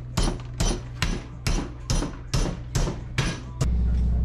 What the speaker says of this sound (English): I want a bigger hammer.